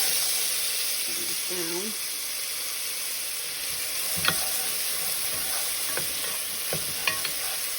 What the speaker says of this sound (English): I'm adding in about a tablespoon of minced garlic.